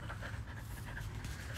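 A dog pants close by in quick, steady breaths, with a faint whimper here and there and no voices.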